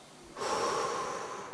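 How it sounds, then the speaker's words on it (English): A person breathes out forcefully in one sudden, sustained breathy rush after a quiet moment, close to the mic and with no speech. "So when you breathe out, you're gonna hold it from there."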